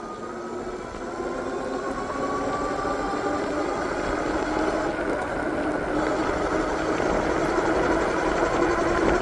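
An Eilleo SpaceWalk M7 electric bike ridden on throttle alone, giving a steady motor whine and hum with road and wind noise that swells slightly as it picks up speed.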